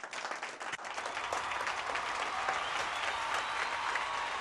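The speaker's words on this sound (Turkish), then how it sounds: "Sinan Yılmaz'ı alkışlıyoruz" A studio audience at a Karadeniz Show claps for Sinan Yılmaz with sustained, dense applause. It starts briefly, then swells and holds steady and fairly loud for the whole stretch, with no speech over it.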